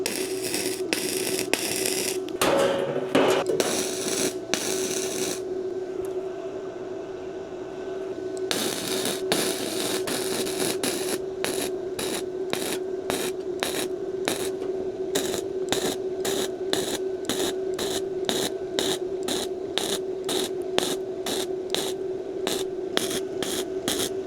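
Bestarc welder laying a bead on 16 gauge metal at about 17 volts, a steady crackling hiss with a constant buzzing tone, broken by rhythmic short pauses and restarts in the later half, close and fairly loud.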